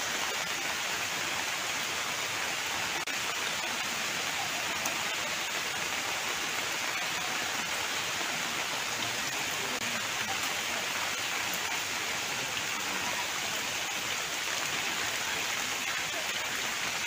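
Heavy monsoon rain falls in Uttara Kannada district, Karnataka, a dense, even hiss of downpour that holds steady throughout, with no one speaking.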